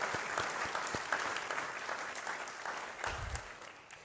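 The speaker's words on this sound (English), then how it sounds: "Another round of applause, everybody." An audience at the AFRL Inspire 2023 event claps in sustained applause, dense and fairly loud at first, then gradually thinning and fading toward the end.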